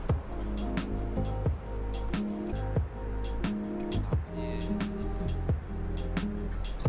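Street traffic at Devonian Square, Toronto, on a university campus: a steady, close urban hum of vehicles passing, with engine drones rising and falling and occasional brief knocks.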